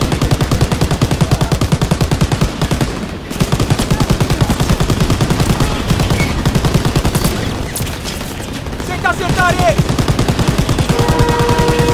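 Rapid machine gun fire in the World War II shooter Call of Duty WWII, a dense continuous rattle of bursts running nearly the whole time, with a brief pause, alongside other game effects and occasional shouted voices.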